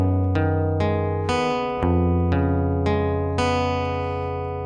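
A sustained chord rings while a descending line of bass notes moves beneath it, each new note struck about every half second with a bright attack, steady and loud with no talk.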